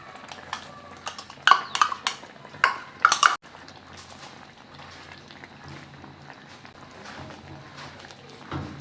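A pan of sardine curry is swirled instead of stirred, producing bubbling liquid and a few sharp metallic clanks of the pan up close, followed by a quieter simmering hiss.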